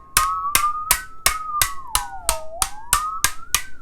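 Musical saw tapped in a steady rhythm, about ten strikes in all, each leaving a clear ringing tone that bends down and back up in pitch.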